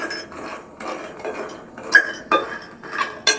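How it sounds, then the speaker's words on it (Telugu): Fox nuts, walnuts and almonds dry roasting in a pan, heard as a rhythmic series of rattling, clattering bursts as they are tossed and stirred, fairly close, with no talk. "ఇవి బాగా వేయించుకోవాలి"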